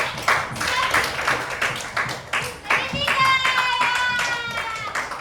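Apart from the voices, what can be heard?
class clapping for a group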